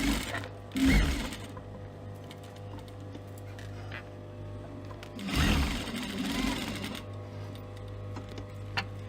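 A sewing machine stitching lining pieces for a humbug purse, a steady mechanical hum with a fast rhythmic needle tick, running across the clip with two louder bursts of handling or backstitching.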